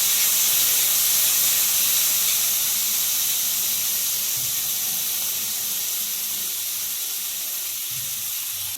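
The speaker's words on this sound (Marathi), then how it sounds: "डाळीला पण चांगल्या प्रकारे फ्राय करून घेऊयात." Lentils (dal) fry in a pan for a chawli-leaf bhaji, making a loud, continuous hissing sizzle with steam that stays steady and fades only slightly toward the end.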